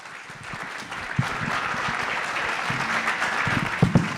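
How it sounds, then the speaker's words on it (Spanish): Steady audience applause welcomes an economist speaker at a management talk, a moderate, continuous wash of clapping with a few louder claps and low murmurs underneath. "Sí, un aplauso a José Manuel."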